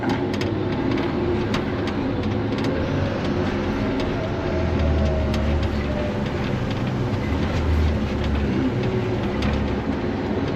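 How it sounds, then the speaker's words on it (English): Off-road truck rolling over freshly compacted dirt beside a pond dam under construction, a loud continuous engine drone with rumbling and rattling across the whole stretch. "see what our compaction looks like with an off-road truck driving over it"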